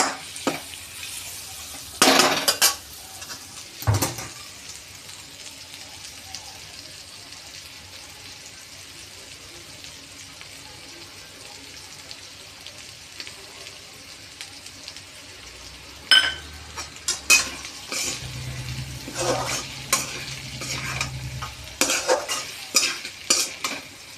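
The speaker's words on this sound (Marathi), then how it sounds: "हळद टाकून कारलं 2 मिनिटं परतून घेऊ. आणि आता शेंगदाण्याचा कूट टाकू." Bitter gourd tossed in a pan with turmeric and crushed peanut powder, giving a low steady sizzle broken by a few sharp scraping stirs and clinks of a spoon against the pan, with busier scraping toward the end.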